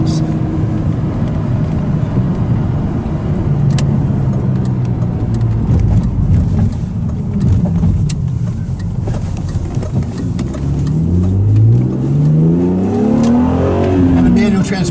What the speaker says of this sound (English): We're getting to rev the motor out here.